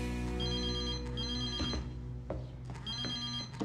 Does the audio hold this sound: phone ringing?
yes